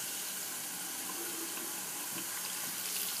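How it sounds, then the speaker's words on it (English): Hot tap water runs steadily into a ceramic pottery shaving brush scuttle, a continuous close hiss of flowing water with no talking. "I'm going to refill it with some hot water and get it heated up a little more"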